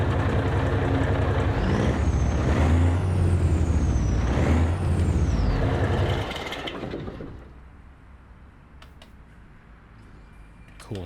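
A Western Star truck in American Truck Simulator idles with a loud diesel rumble, then shuts off with a long air brake hiss that fades to quiet, followed by a few faint clicks.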